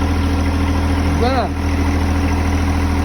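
A John Deere 1025R compact tractor's diesel engine idles steadily and loudly up close, with a brief spoken word over the hum.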